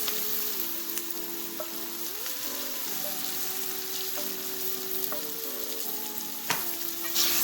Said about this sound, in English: So I'm just going to go ahead now and add my pumpkin